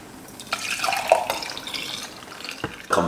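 Carrot beetroot juice pours in a few uneven splashy bursts into a container in a kitchen, close and fairly quiet, with short pauses between the gushes.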